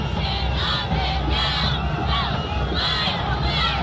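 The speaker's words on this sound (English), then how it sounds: "Crowd's getting loud." Spectators at a Tabor College home football game against McPherson roar loudly on a big fourth down, a dense, sustained crowd cheer with swelling shouts and whoops and no clear break.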